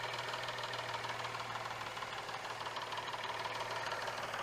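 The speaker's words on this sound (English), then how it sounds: "Here's our Jeep running. It runs pretty damn decent for the mileage it has." A 2005 Jeep Liberty Sport 4x4 engine idles with a steady, even hum and a faint rapid ticking, heard close up and quiet, with no voices.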